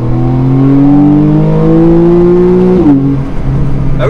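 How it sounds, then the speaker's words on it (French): A manual-gearbox Porsche 991 Carrera with a 350 hp flat-six and sport exhaust revs loudly and steadily, its pitch climbing smoothly before dropping near the end as the throttle eases, then settling into a lower drone. "C'est le bruit du flat 6."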